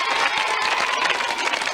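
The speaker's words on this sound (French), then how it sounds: "On peut l'applaudir, Sabine." A studio audience on a TV children's game show applauds a contestant, a brief dense patter of clapping with a light crowd murmur, steady and fairly close throughout.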